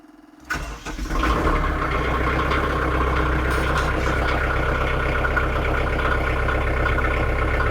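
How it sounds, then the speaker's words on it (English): A tractor engine cranks and catches after a short quiet moment, then settles into a steady, loud, close idle with an even low rumble that runs to the end. "we're going to get the tractor fired up"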